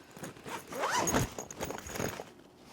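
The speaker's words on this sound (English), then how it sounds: "And then there's a zipper, and then you have your camera in there" Zipper on a camera sling bag being pulled open, a close, scratchy run of zip teeth rising and falling over about two seconds, with no voices.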